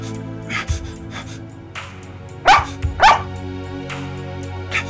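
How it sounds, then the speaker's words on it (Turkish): A dog barks a few times in short, sharp bursts, fairly close, with some background noise between the barks. "Pis köpek defol!"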